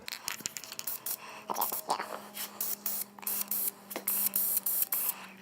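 Short hissing bursts of an aerosol spray can laying a base coat onto a shotgun-mounted flashlight and shell holder, close and fairly loud, in repeated pulses with brief gaps.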